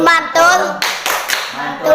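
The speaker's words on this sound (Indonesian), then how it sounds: "Oke, tepuk mantul dulu ya," A group of women at a community family-support session claps out a short rhythmic clap routine, sharp bursts of hands with voices chanting along between them.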